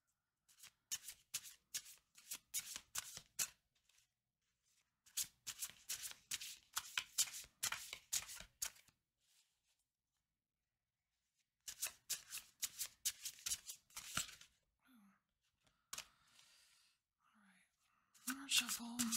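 A deck of cards is shuffled repeatedly at close range: quiet riffling bursts with brief pauses between them, and soft low talk near the end.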